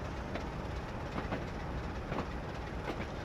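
A train rolls slowly along the West Coast Main Line to couple onto another train hauling a Class 86 engine, making a steady low rumble with rhythmic clickety-clack wheel beats heard from onboard.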